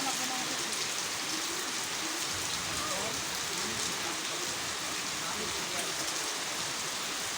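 Steady rain falls throughout on a rainy day in a rural Bangladeshi setting, a dense continuous hiss of drops on surfaces with faint background sounds mixed in.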